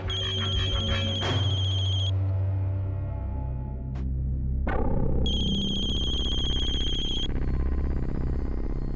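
Telephone ringing in a Hindi TV drama scene, with bright electronic rings in two long bursts separated by a short gap, loud and close over a low background hum.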